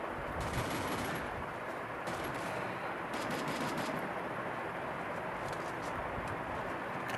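MP5 submachine gun fire in the Free Fire mobile game, rapid repeated shots in short bursts over a continuous dense background, moderately loud and without clear speech.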